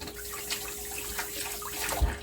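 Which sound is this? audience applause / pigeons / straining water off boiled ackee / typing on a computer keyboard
straining water off boiled ackee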